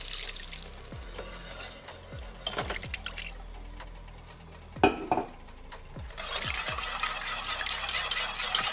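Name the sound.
liquid poured and stirred into homemade gravy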